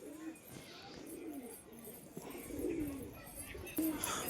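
Desi Giribaj pigeon chicks give soft, low coos and murmurs up close, a few separate calls spread over several seconds, with faint voices in the background.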